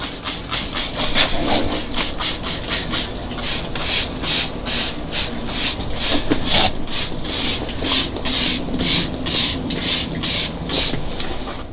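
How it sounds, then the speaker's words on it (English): Mildew stain remover is sprayed on the vinyl seat of a Boston Whaler Dauntless boat, a long series of rapid trigger-sprayer bursts in a steady rhythm, close and loud, with no talking. "I'm going to spray that down so we don't have any blotchy areas."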